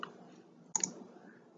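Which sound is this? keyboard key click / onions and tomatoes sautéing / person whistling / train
keyboard key click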